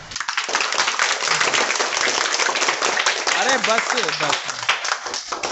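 Students clap together in a classroom, a brisk dense burst of hand claps close by, with a voice speaking briefly over the clapping.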